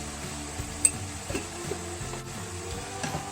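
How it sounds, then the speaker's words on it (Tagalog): Chicken feet and gizzard adobo simmers in a covered pot, giving a quiet, steady sizzle with a few faint clicks and small bumps. "now I'm going to cover it and simmer it until the gizzard and the chicken is cooked"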